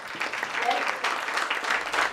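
An audience at a debate academies poetry event applauds a finalist with steady, dense clapping that fills the moment, with a voice faintly present beneath it.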